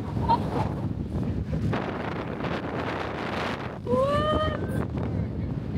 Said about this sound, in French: le vent il est limite plus chaud que la température. Ça souffle bien.